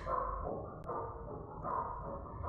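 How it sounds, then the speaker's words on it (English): Odd, warbling bark-like calls from a dog in the video game Undertale repeat in a few bursts over a steady low hum, with a sharp click partway through. "it's a weird barking."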